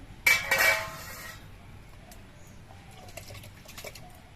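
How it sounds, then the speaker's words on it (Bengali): Washed lentils for plain khichuri tumble into a cooking pot in a short rattling pour near the start, followed by a few faint clinks in a quiet kitchen. "এবার এই ডালগুলো আমি হাড়ির মধ্যে দিয়ে দিচ্ছি"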